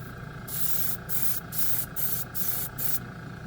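An air spray gun run by a compressor sprays clear green paint in five or six short bursts of loud hiss, each about half a second long, with a steady compressor hum underneath.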